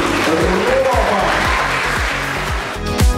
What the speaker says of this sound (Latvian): Vēlreiz skaļi aplausi.